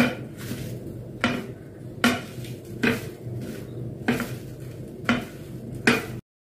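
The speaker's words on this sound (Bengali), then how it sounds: "এবার আমি এর মধ্যে সবটা একসঙ্গে মিশিয়ে নেব।" Mashed shrimp paste for Bangladeshi chingri bata being mixed in a bowl, with a run of sharp, regular scraping and clinking strokes of a utensil against the bowl, loud and close, about one stroke every second.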